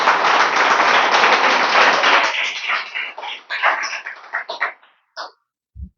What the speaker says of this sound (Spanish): Denle un aplauso a papá.